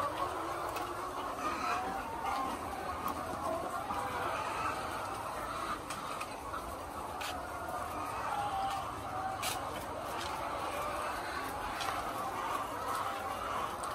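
Laying hens clucking on a Philippine egg poultry farm, a steady chorus of many birds murmuring and cackling throughout, with faint human voice mixed in the background.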